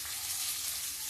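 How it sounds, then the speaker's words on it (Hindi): Garlic and onion fry in a pan with a dense, continuous hiss of sizzling oil, close and steady, with no talking. "ये लहसुन प्याज है, ये भून रहा है मेरा।"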